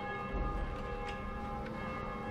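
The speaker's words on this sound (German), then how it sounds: "Aber die Glocke nervt noch immer, ne?" Church bell ringing in the video game Dying Light, a sustained bright tone with lingering overtones over a rumbling ambient bed, steady and moderately distant.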